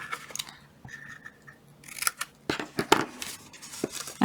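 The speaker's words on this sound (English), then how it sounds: "Just cut it off now." Scissors snip through a paper box template in short, crisp cuts, a few scattered at first and then several rapid snips close up, with quiet pauses between.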